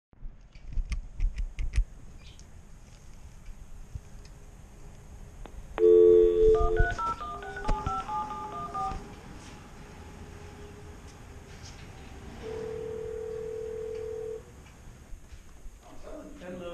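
A building intercom keypad being dialed at an apartment entrance during a food delivery: a burst of loud electronic tones and beeps, then a long steady ringing tone, with a person talking nearby and street background.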